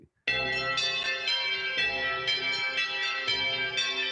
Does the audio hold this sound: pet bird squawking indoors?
no